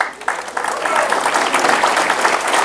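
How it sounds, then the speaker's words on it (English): Applause from a conference audience at the Liberty Forum swells in after a brief lull and holds as a loud, dense clapping wash, with some speech mixed in. "round of applause."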